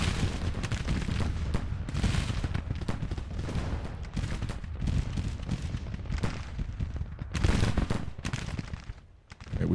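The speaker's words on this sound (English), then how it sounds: "they are being fired on by artillery" Artillery and massed rifle fire in Grand Tactician: The Civil War, with troops under bombardment in earthworks: dense, continuous crackling volleys and booming shots, with louder bursts near seven and a half seconds and no talk.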